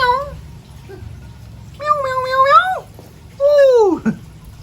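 A pet cat meows close by, two clear drawn-out calls a second apart after a brief faint chirp at the start, loud against a quiet indoor background.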